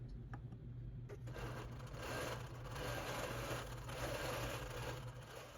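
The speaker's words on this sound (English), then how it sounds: "we're sewing 2 flowers at a time in the outside border" A longarm quilting machine stitching flower patterns into a quilt's outer border, running as a continuous close mechanical hum with a fast needle rhythm, alone and steady.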